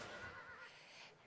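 A horse whinnies briefly and faintly in a racetrack paddock, a short, high, wavering neigh set against soft background murmur.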